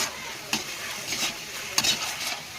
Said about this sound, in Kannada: ಇವಾಗ ಇದನ್ನು ಕ್ಲೀನಾಗಿ ಫ್ರೈ ಮಾಡಿ